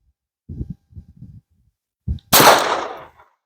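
A single sharp, loud gunshot from a .22 with a 5-inch barrel, with a short decaying tail, preceded by a few soft close handling knocks.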